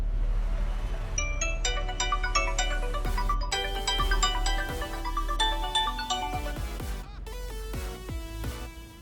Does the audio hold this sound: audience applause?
no